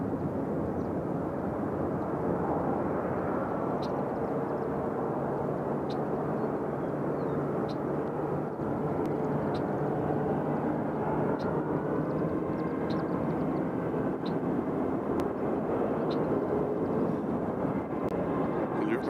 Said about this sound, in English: So there's the Alaska Airlines that came all the way across the country from Seattle.